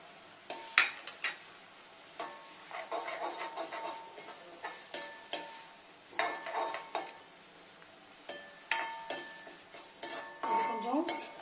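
Curry leaves and green chillies fry in coconut oil for kada chilli chicken, a soft sizzle under frequent clinking and scraping stirs of a ladle against the pan, close by.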